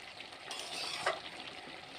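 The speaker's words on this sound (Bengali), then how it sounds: "চিংড়িগুলো দিয়ে দেবো, দিয়ে নেড়ে দেবো সুন্দর করে।" Shrimp tossed into a hot pan and stirred, giving a steady close sizzle and frying hiss with soft scraping stir sounds, one brief sharper crackle midway.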